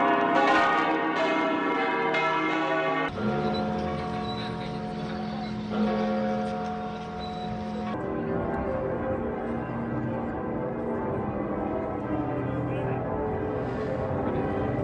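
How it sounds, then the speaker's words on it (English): Church bells peal across Europe in overlapping, resonant strikes, several bells ringing together with long sustained tones that layer and fade without any talking. "let's listen to the church bells ringing out across Europe in support of Ukraine"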